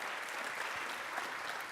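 Faint, distant applause from a conference audience at a keynote opening event, a brief, even patter of clapping heard from far back in a large hall.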